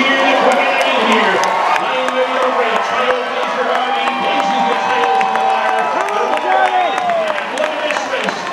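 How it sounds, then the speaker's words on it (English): A stampede chuckwagon race crowd at the Medicine Hat Exhibition & Stampede cheers and shouts continuously, with a steady roar mixed with a voice talking over it. "The loudest cheer to come out in here."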